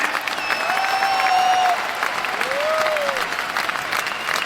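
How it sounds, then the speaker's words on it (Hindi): Loud, sustained applause from a large audience at a 23rd-anniversary celebration program in a stadium, a steady dense roar of clapping that fills the whole stretch with no pause. "आप जोरदार तालियां बता के अपना एक्साइटमेंट दिखा सकते हैं।"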